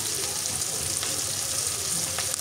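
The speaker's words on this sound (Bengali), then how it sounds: "লবণ দিয়ে এখন একটু ভালোভাবে ভেজে নিচ্ছি।" Onions frying with salt in a pan give off a steady, close sizzle that carries through the whole stretch, with faint stirring scrapes underneath.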